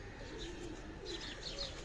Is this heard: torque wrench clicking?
no